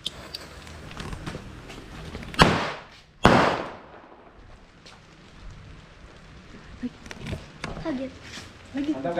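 Two sharp, loud bursts from imported firework rockets in quick succession, each followed by crackling decay, with people chattering and reacting in the background.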